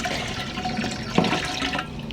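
Liquid drained from a compost worm bin pouring steadily, a close continuous splashing trickle with one brief sharper splash partway through, no talk.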